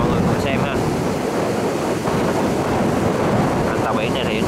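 Sea surf and strong wind on the coast at Kiên Lương, Kiên Giang, as a fishing boat comes into shore on a morning with fairly weak waves. There is continuous loud rushing wind noise over the microphone, with muffled wave wash underneath.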